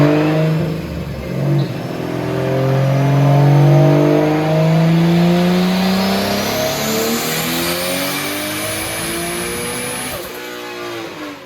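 A 2JZ-swapped Nissan 240SX with an S366 turbo revs hard on a dyno, the engine note climbing steadily through a long pull for several seconds before easing off, loud and close with no talking.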